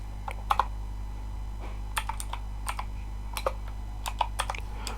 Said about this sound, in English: You can look at the question, you look at the spelling, then you type there.